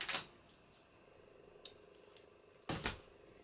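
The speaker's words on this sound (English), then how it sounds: "It's a gold ribbon, and I'm just going to cut some off." Scissors snip through gold ribbon in a few quick, sharp cuts, close and quiet, with faint room hiss between them.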